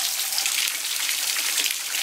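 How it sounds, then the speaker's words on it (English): Water from a hot water heater flushing through a hose into a bucket, a steady hissing, splashing rush that stays even and close throughout, with no voices. "help to push the water out the hose and into our bucket"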